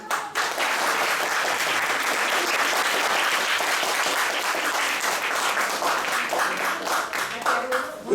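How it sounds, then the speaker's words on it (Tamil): A live audience at a poetry recital bursts into loud, dense applause, with sustained clapping that continues for most of the stretch and thins out toward the end. "மீண்டும் ஒரு பெருத்த கரகோஷம்"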